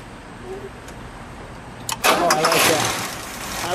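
A 1963 Oldsmobile Dynamic 88 convertible's V8 cranks briefly and fires about halfway through, then settles into a fairly smooth idle, heard close by.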